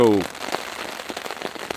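Heavy rain patters steadily on surfaces around a wilderness camp at night, a close, even hiss with scattered drops, briefly under a voice at the start.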